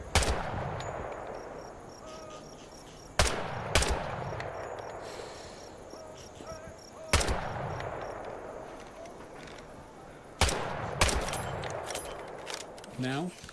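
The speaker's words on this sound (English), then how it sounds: "Shoot the targets ahead, aiming for the helmet to guarantee an instant kill" Rifle fire at targets in Hell Let Loose Vietnam, four or five sharp single shots spaced several seconds apart, each with a decaying echo, under a quiet ambience and intermittent speech.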